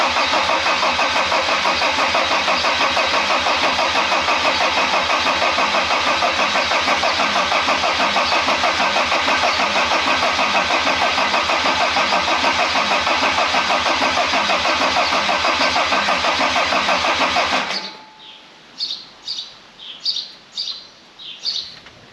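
A Mercedes OM605 turbo diesel engine is cranked over on the starter without firing, a loud, steady rhythmic churning for about eighteen seconds before it abruptly stops, leaving quiet background with some birds chirping.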